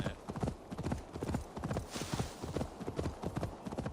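Rapid, rhythmic hoofbeats of a horse galloping in the game Assassin's Creed Valhalla, steady clip-clop thuds at a quick pace throughout, moderately close, with a faint whooshing ambience behind.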